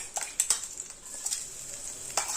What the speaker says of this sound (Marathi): एवढं तेल शिल्लक आहे तरी सुद्धा याच तेलात आता आपण केलेला मसाला टाकून घ्यायचा आहे